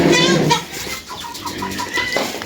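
Chickens on a small Ukrainian household farm give a burst of loud, close, high-pitched cheeping at first, then softer scattered chirps and clucks continue while a person talks nearby.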